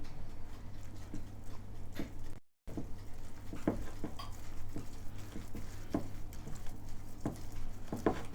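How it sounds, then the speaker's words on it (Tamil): Soft irregular patter and light wet slaps of a hand mixing flour into milk in a pot while making thothal, close and quiet over a low steady hum. "இப்போ லிட்டர் பாலில் இந்த மாவை கரைச்சி கொள்ளுவோம் சும்மா கை வச்சே கரைச்சி கொள்ளலாம்"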